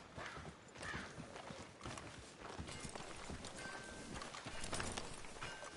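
Horse hooves clip-clop steadily through a town street in Red Dead Redemption 2, a continuous walking rhythm with ambient game noise around it.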